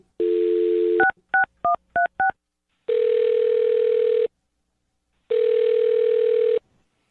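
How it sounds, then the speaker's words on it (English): A landline gives a steady dial tone, then a quick run of seven keypad beeps, followed by two long ringback tones separated by silence. "I'll dial her phone number right now"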